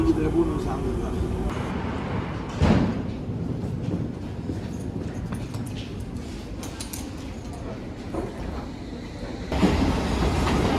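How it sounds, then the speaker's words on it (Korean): Train rumbling and clattering as it pulls into London's Paddington Station, low steady rolling noise with a sharp clank partway through, heard close by. "기차가 들어왔습니다."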